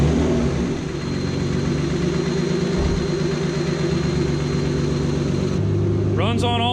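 Turbocharged BMW E36 six-cylinder with one damaged cylinder, running at a steady, loud, close idle with a rough rhythmic throb, then a brief whine and rev at the very end.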